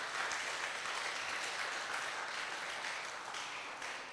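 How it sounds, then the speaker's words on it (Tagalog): Church congregation applauds, a dense, even wash of many hands clapping at moderate distance, sustained without pause and easing slightly at the end. "Palakpak nga muli sa Panginoon."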